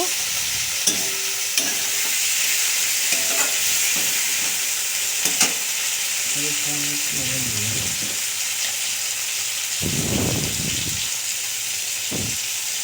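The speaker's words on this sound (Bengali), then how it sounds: "টমেটোটা ভালো করে দিয়ে একটু নাড়াচাড়া করে এর ভেতরে আবারও একটু লবণ দিয়ে দেব" Chopped tomato frying with spices and salt in a pan, continuous sizzle with scraping stirring strokes and occasional knocks of the spoon, close and steady.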